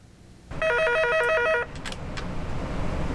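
A telephone at a suicide prevention lifeline call centre rings in one short electronic trill burst of about a second, followed by faint room and traffic hum.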